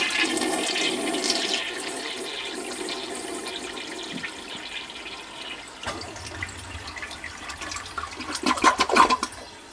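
A toilet flushes up close with a rushing, gurgling surge of water that tapers off, followed by trickling and a brief louder burst of splashing near the end.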